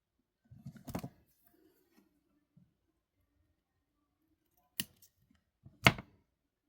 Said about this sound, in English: Snip this off.